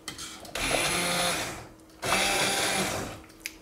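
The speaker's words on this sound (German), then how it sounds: "Erstmal pürieren wir." A blender purées homemade tomato soup made from preserved tomatoes, running in two steady, loud whirring bursts of about one and a half seconds each, with a short pause between them.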